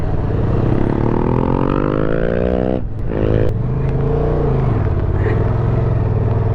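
A 2024 Honda Transalp XL750 motorcycle rides on gravel. The engine drones loud and steady with rising and falling pitch, plus a short dip in the middle, and a continuous crunching, scraping rumble sits underneath it. No one speaks.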